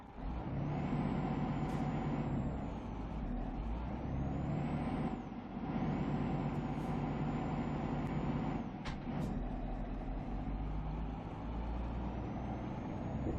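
Heavy truck engine in Euro Truck Simulator 2, a steady loud drone with rumbling low end and a couple of sharp air-brake hisses, running continuously without talk.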